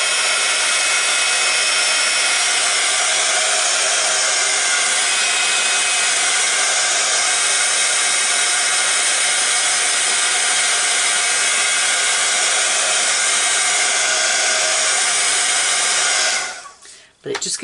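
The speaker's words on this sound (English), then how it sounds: "I'm just going to bring my heat gun in to dry that" A heat gun blows steadily and loudly on stamped ink for about sixteen seconds, a continuous airy roar that cuts off abruptly near the end.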